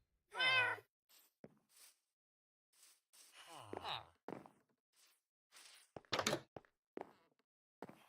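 A cat lets out one clear, close meow near the start, followed by scattered soft thumps, shuffles and faint quiet sounds in an otherwise hushed room.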